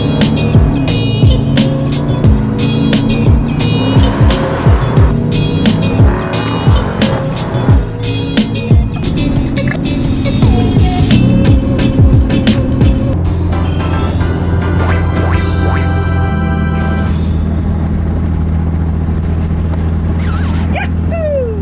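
A modified Mitsubishi Evo X on cold start roars loud and close with a rough, crackling idle and sharp pops. The raspy engine drone persists throughout, and bursts of excited shouting and voices are heard nearby.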